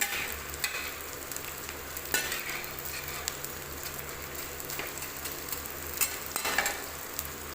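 Edible gum frying in ghee in a kadhai for Punjabi besan panjiri, making a steady, dense sizzle with bubbling crackle that runs the whole time without talk.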